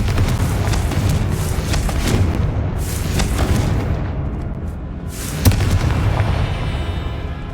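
A Confringo blasting spell goes off in Hogwarts Legacy, loud rumbling booms and a sharp blast rolling over several seconds with no talk.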